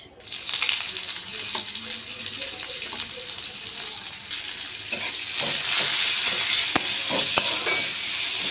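Chopped onions go into hot oil after a tempering of cumin and bay leaf, giving a steady sizzle that swells partway through, with occasional stirring scrapes.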